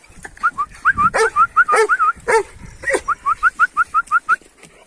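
Two puppies give short high yelps and whimpers in a quick run of repeated cries, close and fairly loud, with a few sharper barks mixed in and a person's voice briefly underneath.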